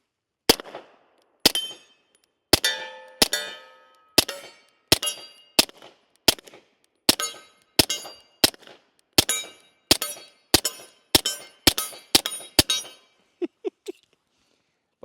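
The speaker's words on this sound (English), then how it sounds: "just to be able to hear that steel hit, or that bullet hit that steel" Subsonic rounds from a Beretta 92X pistol ring off steel targets in a steady run of about twenty sharp cracks, each followed by a bright metallic ping, spaced roughly every half second to a second.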